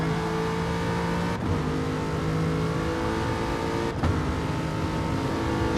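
An Aston Martin race car at Brands Hatch holds a steady, loud engine drone with strong harmonic whine, broken twice by brief dips that sound like early upshifts, revving hard without any voices over it.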